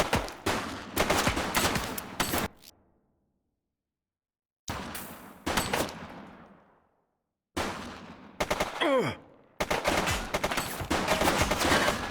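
Rapid bursts of gunfire from the police video game The Precinct, loud and close, with sustained automatic volleys broken by two short silences and one lull around a fading echo.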